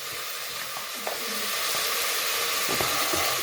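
Chana dal hits hot oil for a cabbage curry and sizzles in a steady, close, dense frying hiss that holds throughout, with faint stirring clinks and no voices.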